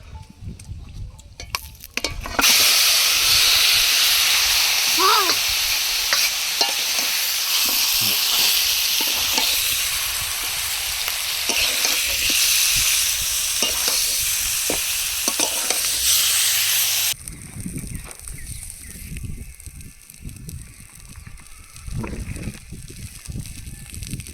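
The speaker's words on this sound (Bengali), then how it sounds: "মশলার মধ্যে এবার মাংসগুলো সব দিয়ে দেবো" Chicken pieces for a Bengali country-chicken curry with cauliflower hit hot spice masala in a pan and sizzle loudly for about fifteen seconds, with stirring scrapes. The frying then drops to a quieter crackle.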